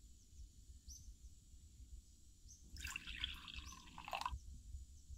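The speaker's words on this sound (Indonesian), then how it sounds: "Tambahkan 30 ml susu cair full cream" Full cream liquid milk, about 30 ml, is poured into a heatproof container holding glutinous rice flour, a brief soft liquid trickle over a faint, quiet background.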